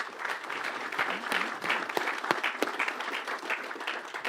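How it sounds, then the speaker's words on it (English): An audience applauds at a governor's economic development announcement in Little Rock, a sustained wash of many hands clapping, fairly close and even, with a faint voice briefly underneath. "Let's give him a round of applause"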